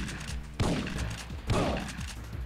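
Two heavy gunshot bursts from the video game Syphon Filter, about a second apart, each a sharp loud blast that trails off into a rumbling tail, with no voices.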